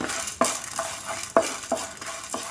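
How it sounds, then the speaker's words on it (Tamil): Long pepper dry-roasts in a pan as a spoon scrapes and stirs in a quick, uneven rhythm, giving close scuffing strokes over a faint, light crackle. "இது நல்லா வறுத்துக்கோங்க."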